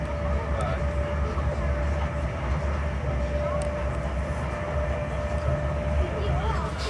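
A crowded passenger train from Penzance rolls along near Weston-super-Mare, heard from inside the carriage: a constant low rumble and rattle with faint clicks, while a person talks over it.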